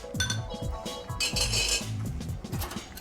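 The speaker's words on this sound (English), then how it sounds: "we're actually going to dilute it with 1 cracked ice cube. We'll crack with a serving spoon. Then give it a quick turn." At a historic Los Angeles Chinatown bar, an ice cube is cracked with a serving spoon and stirred into a cocktail, giving a close, rhythmic run of metallic clinks and knocks against glass, with no speech.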